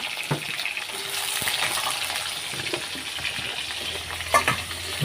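Potatoes tipped into hot oil with cumin sizzle steadily up close, a continuous bright frying hiss with scraping stirs and a few sharper clinks of the utensil.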